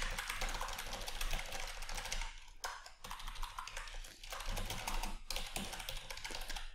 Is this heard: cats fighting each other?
no